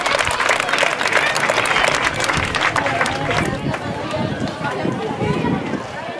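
A crowd at a Día de Reyes community celebration in Loma Bonita claps in sustained, loud applause, with voices calling and chattering through it.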